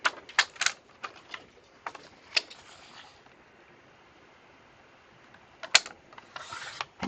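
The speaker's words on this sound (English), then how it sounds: "So let me bring in my paper trimmer." A paper trimmer slices slivers off journal pages with close, crisp clicks and short sliding cuts, a few scattered strokes separated by quiet pauses.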